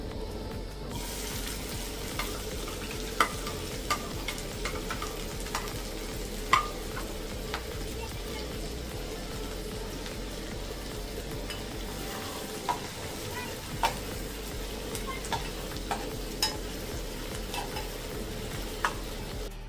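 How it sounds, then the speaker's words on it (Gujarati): Cumin and chopped onion fry in hot oil, a steady close sizzle with occasional stirring clicks and scrapes running throughout. "આપણું તેલ ગરમ થઈ ગયું છે તો પેલા જીરું એડ કરી દેવું કટિંગ કરેલી ડુંગળી"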